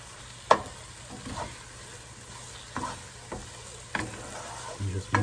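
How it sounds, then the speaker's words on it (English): A spoon scrapes browned onion fond off a pan bottom for French onion soup, making short, irregular scraping strokes over a steady low sizzle, close to the ear. "It coats the pan and we scrape it off."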